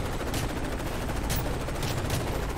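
Rapid gunfire from a gun in Call of Duty: Modern Warfare 3 bursts in a dense, loud rattle of shots that keeps going from start to finish.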